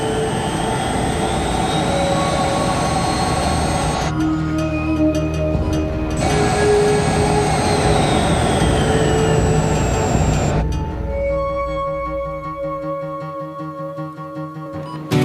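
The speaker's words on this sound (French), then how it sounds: "Nous nous préparons à atterrir." A jet aircraft preparing to land in a TV drama, a loud continuous engine roar with shifting whine tones that drops in pitch and eases toward the end, heard alone without speech.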